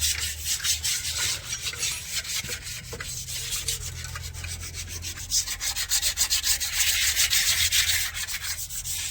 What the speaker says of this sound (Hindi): सफाई कर रहे हैं अभी फिलहाल प्रेशर प्लेट